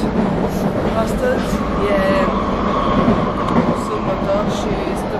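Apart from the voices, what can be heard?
inside a moving metro train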